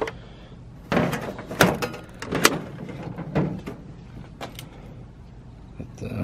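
The shallow top drawer of a vintage Sears toolbox slides and knocks, with scraping metal runs and a few clunks, close and fairly loud, while a person talks intermittently.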